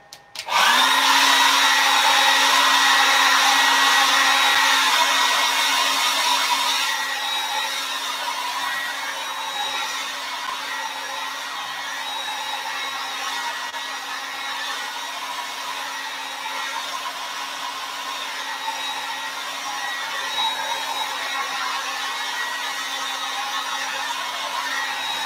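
A hair dryer blows steadily over a paper craft project, a loud continuous whir with a steady motor tone that starts abruptly, stays strong, then eases slightly to a lower level and runs on alone.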